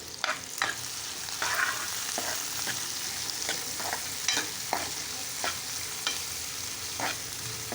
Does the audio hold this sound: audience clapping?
no